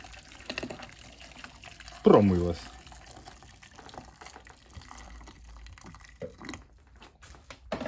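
Boiling water is poured over the brew unit of a De'Longhi Magnifica S coffee machine in one short, loud gush, then trickles and drips faintly while someone talks quietly.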